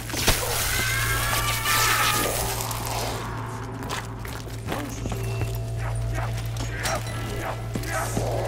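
Hellhound-style dogs barking and yipping in Black Ops 3 Zombies gameplay on the Verrückt map, sharp repeated barks over a constant game hum, with a player talking at times.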